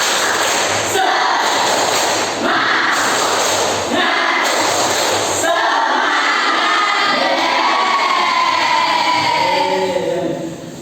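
A group of children clap and chant together in a loud, rhythmic classroom cheer, with repeated bursts of voices and claps in a reverberant room.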